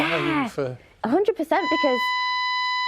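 A fire alarm sounds in a live breakfast TV studio, a steady high electronic tone that starts partway through while people talk over it, then carries on alone.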